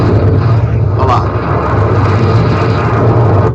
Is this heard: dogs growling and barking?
no